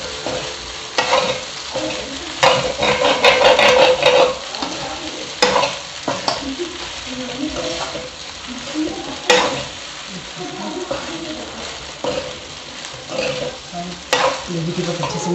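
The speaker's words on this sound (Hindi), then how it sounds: "वेजिटेबल अच्छे से मिक्स हो गए।" Vegetables are stirred and mixed in a sizzling pan for white sauce pasta, with repeated scraping strokes of a spoon against the metal over a steady frying hiss, loud and close.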